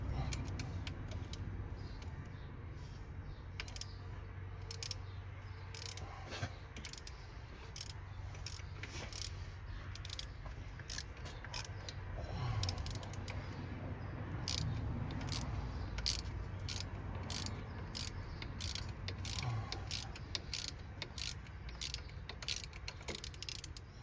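Wrenching on the brake caliper hose bracket of a Citroën C5 during a front wheel bearing job, with steady ratcheting clicks and small metallic mechanism noises close by over a constant low background hum.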